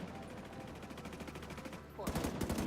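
Gunfire in a video game firefight: a faint rattle of shots under background noise, then a loud, rapid automatic burst of evenly spaced shots near the end.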